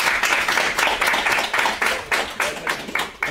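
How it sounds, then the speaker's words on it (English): An audience at a tech talk on Android development claps steadily for the next speaker, a dense, sustained round of applause from a room of people with no talk over it. "Everyone go and give a round of applause"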